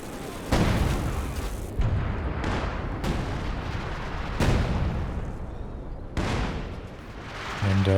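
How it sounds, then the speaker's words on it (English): Artillery barrage in the video game Company of Heroes 2 during a 4v4 match: a run of about five heavy, loud booms, each rolling into a long rumbling tail that overlaps the next, with no speech. "How does this barrage come in?"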